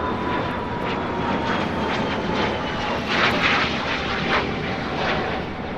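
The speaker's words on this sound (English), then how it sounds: "This Cessna Citation XLS making a short hop over to Burbank." Cessna Citation XLS business jet taking off at LAX, a loud continuous engine roar with a faint high whine that stays strong throughout, heard from the airport.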